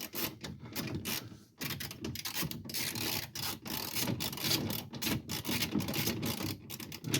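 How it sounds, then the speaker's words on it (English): Screws are driven back into a 2002 Ford Windstar door panel, heard as close, repeated scratchy turning and ratcheting bursts broken by brief pauses. "Start screwing your screws back in."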